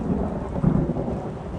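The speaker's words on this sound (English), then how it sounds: "I think this is gonna be really intense storm activity." A thunderstorm with a deep, continuous rumble of thunder and steady heavy rain, dense and loud throughout without any voices.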